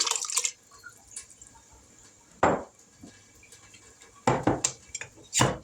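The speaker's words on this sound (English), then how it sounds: "We're going to add a jar of stewed tomatoes." Stewed tomatoes from a jar go into a soup pot on the stove, with a few sharp clinks of glass and metal and soft wet plops and splashes in scattered bursts, fairly quiet and close.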